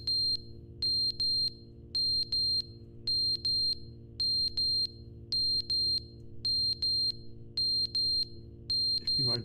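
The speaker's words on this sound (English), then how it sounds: "If you identify as black, the smoke alarm will beep." In The Stanley Parable video game, a smoke alarm gives repeated paired high electronic beeps at a steady rhythm over a low background hum, loud and close, with no talk.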